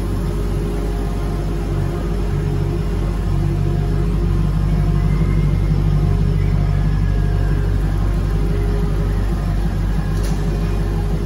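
The LS2 engine of a 1965 Corvette restomod runs steadily nearby, a continuous low rumbling idle with a deep drone and no talk.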